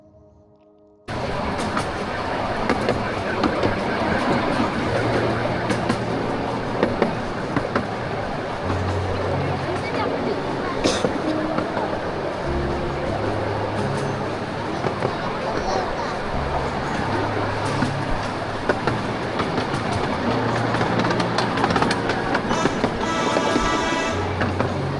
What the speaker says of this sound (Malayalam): നമുക്കിനി കുറച്ച് നേരം ട്രെയിനിൻ്റെ യഥാർത്ഥ സൗണ്ട് ഒന്ന് കേട്ടാലോ?